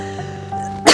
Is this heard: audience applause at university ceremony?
no